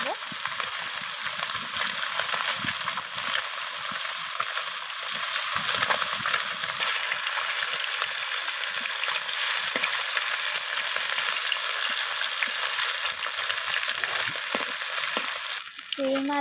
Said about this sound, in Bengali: তো এই মাছগুলোকেও আমি লালচে করে আগের মতোই করে মাছগুলোকে ভেজে নেব